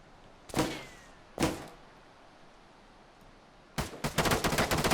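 Gunfire in the military simulation game Arma 3: two separate sharp shots ring out, then after a pause a rapid burst of automatic fire rattles off, loud and close, with no voices.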